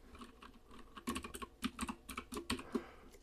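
Quiet clicks of a computer keyboard while copy-paste shortcuts are pressed in a code editor, working on Roblox terrain generation; sparse, close keystrokes in small clusters, with no talking.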